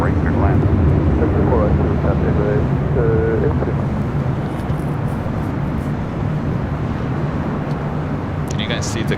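A plane lands on runway 24 right at LAX, heard as a loud, steady low roar throughout, with voices audible over it.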